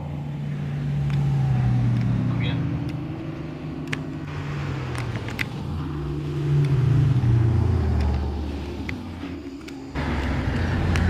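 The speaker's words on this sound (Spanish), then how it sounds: "Mucho carro bajando." Traffic descends a mountain road between Cajamarca and Calarcá, heard from inside a moving vehicle: a loud rumbling engine drone with rising and falling revs, sweeping passes of other vehicles and occasional clunks, with no speech.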